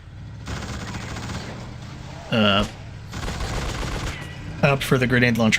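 Rapid gunfire from a grenade launcher and revolvers in The Suffering video game, dense bursts of shots filling most of the stretch, interrupted by short spoken interjections and a game voice near the end.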